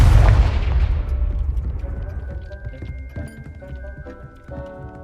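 A Confringo spell explosion in Hogwarts Legacy, one loud booming blast at the start that decays into a long rumbling tail with scattered crackling debris and chimes.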